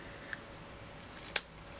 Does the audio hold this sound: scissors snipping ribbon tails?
yes